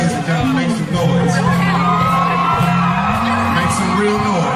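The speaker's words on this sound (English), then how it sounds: "ladies and gentlemen, make some noise" A stand-up comedy crowd cheering and whooping, loud and close, with rising shouts and yells layered over a continuous roar of voices.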